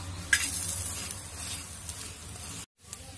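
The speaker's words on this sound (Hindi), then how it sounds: "मैं इसे पलट पलट के अच्छा सा सेक ली हूँ" An aloo paratha frying in oil on a pan, giving a steady bright sizzle with a few crackles, close and even, cut off briefly near the end before resuming.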